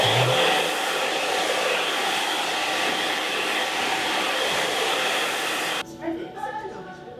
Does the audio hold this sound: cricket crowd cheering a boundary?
no